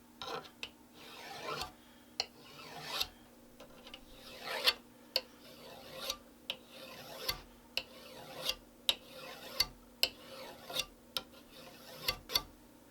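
A card scraper drawn back and forth across a wooden surface under even pressure, giving a steady series of short rasping strokes, roughly one per second, close and fairly quiet.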